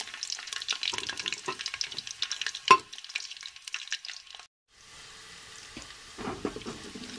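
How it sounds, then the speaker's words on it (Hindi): Chopped onions fry in hot ghee in a pan, giving a steady crackling sizzle with stirring scrapes. The sizzle drops out briefly, then returns softer. "प्याज को ब्राउन होने देंगे"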